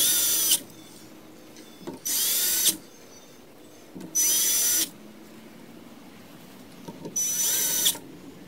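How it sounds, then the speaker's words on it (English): A power driver tightens M4 bolts on the top rails of an RB3 3D printer during assembly, running in four loud, whirring bursts of about a second each, separated by quieter pauses with light handling noise. "And then secure with M4 bolts."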